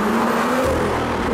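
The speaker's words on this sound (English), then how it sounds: "You can really hear the turbos spool as well." A BMW M2 engine revs with a smooth rising pitch and an audible whir of turbos spooling, heard close from inside the car as a brief, continuous surge with no speech.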